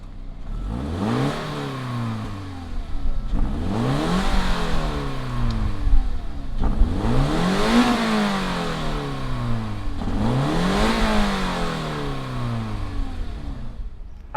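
The engine of a 2020 Toyota 86 Hakone Edition revs loudly and close by in four sweeping cycles, each one climbing sharply and then falling back toward idle, with no voices over the sound.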